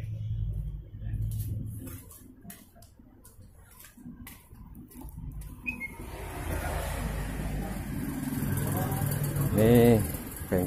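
A carbureted Ruggerini 550cc engine runs in a workshop in Semarang, a low, uneven idle that comes and goes at moderate distance while people talk nearby.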